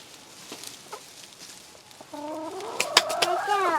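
Soft scattered clucks from hens, then a louder burst of overlapping chicken calls near the end, fairly close by.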